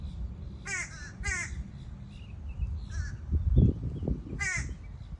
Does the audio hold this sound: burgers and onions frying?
no